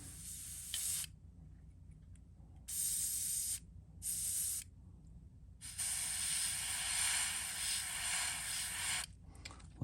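Airbrush spray painting a Magnum S-crank fishing lure in fluorescent chartreuse, several bursts of loud hissing spray separated by short pauses, the last burst long and steady.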